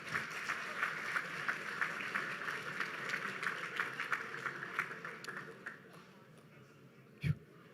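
Applause from an athletics awards banquet audience for the 2022 Male Athlete of the Year, steady dense clapping that thins and fades near the end, with a brief sharp knock just after.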